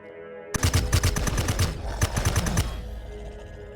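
Rapid bursts of gunfire against level 9 ground troops in Empyrion Galactic Survival, a loud, close string of sharp shots starting abruptly and ending in a trailing echo.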